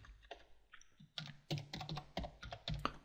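Rapid, uneven keystrokes tapped out on a computer keyboard, close and fairly quiet, with short bursts and pauses between words and no speech.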